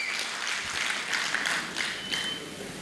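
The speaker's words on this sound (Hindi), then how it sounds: "हम अपने दर्शकों से चाहेंगे कि हमारे अतिथियों के लिए एक जोरदार ताली से इनका स्वागत किया जाए" An audience at a stage event applauds to welcome guests, a steady wash of many hands clapping for the full stretch, fairly loud and continuous without pauses.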